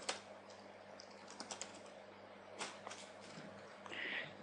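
Fingers tapping out HTML code on a computer keyboard, quick quiet irregular key clicks in short bursts, close and soft with no voices.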